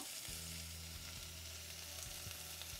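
Ginger garlic with fresh mint frying in a pot, a faint steady sizzle with a low hum running underneath and a few light stirring touches, quiet and without voices.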